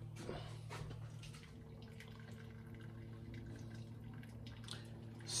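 Liquid is strained from a pot of boiled ackee, held back with the pot cover. Faint trickling and scattered drips run over a low, steady background hum.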